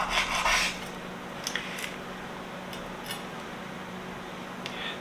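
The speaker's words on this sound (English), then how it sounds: "So we're just going to cut it in half." A knife slices through a fully cooked, double-smoked holiday ham, giving a few short scraping, rasping strokes up close, then quieter rubbing contact against a steady low background hum.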